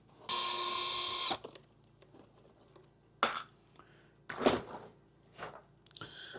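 Power driver removing non-factory screws from a Fender Twin Reverb amplifier, one loud sustained whir followed by several shorter bursts with pauses between, close by.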